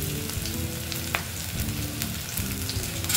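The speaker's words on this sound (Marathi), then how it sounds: "यामध्ये आता आपण जे कारलं भाजलेलं होतं ते घालायचं, आणि छान असं फ्राय करून घ्यायचं।" Roasted bitter gourd fries steadily in a hot pan, a continuous close sizzle with light crackles and an occasional soft stir, no voices.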